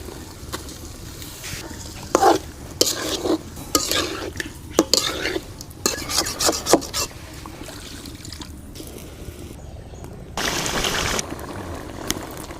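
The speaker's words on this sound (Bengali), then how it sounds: "এখন মাছগুলো দিয়ে দেব।" Fish pieces go into fried spiced masala in a pan, with irregular bursts of stirring, scraping and clattering over a low sizzle, close by, plus a louder sizzling stretch near the end.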